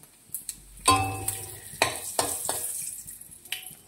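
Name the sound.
panch phoron, dried red chillies and bay leaves sizzling in hot oil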